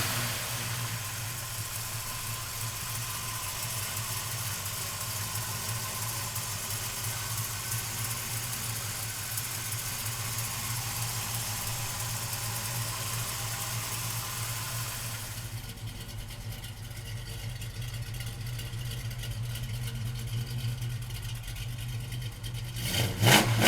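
A 1969 Chevrolet Camaro engine runs at a steady idle, a constant low rumble close by that shifts tone partway through and ends with a short louder burst, with no talk.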